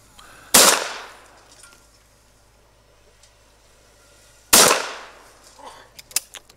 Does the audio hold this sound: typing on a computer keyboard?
no